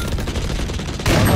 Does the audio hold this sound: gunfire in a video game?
yes